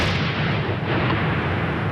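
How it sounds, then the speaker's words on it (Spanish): A burning pickup truck at night sends out a dense, roaring blast of explosive noise. It is loud and sustained with no separate breaks, and nobody speaks. "Explosiones seguidas,"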